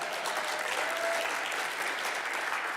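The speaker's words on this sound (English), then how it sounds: "Round of applause." A crowd claps in a continuous, even round of applause, fairly loud and sustained throughout with no voices over it.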